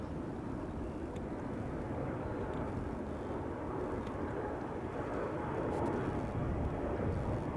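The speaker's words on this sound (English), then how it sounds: "KLM Embraer 175 to Luxembourg just took off from center" A KLM Embraer 175 jet climbs away from Schiphol toward Luxembourg, a distant, low continuous engine rumble that stays fairly even and grows slightly fuller near the end.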